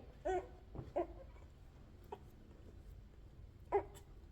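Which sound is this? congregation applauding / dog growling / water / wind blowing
dog growling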